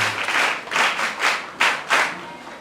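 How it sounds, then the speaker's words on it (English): A small audience at a charity foundation event gives a short round of applause, heard as a handful of distinct, fairly close claps in a rough rhythm rather than a dense roar. "let's give her a round of applause"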